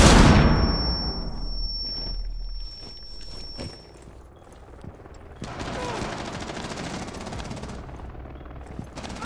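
A flashbang grenade detonates in Rainbow Six Siege with a sudden loud, close bang that leaves a steady high-pitched ringing tone for several seconds, followed by muffled movement and a louder rumble of activity.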